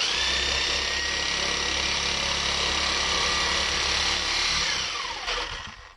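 A power saw fitted with a wood blade cuts through an exhaust pipe on a Fairmont drift car, a steady loud whining buzz that holds for about five seconds before tapering off.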